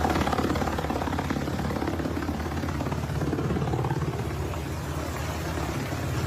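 Helicopters overhead during a nighttime federal immigration raid in Chicago, a continuous loud rotor and engine drone with a rapid pulsing beat, steady throughout with no voices.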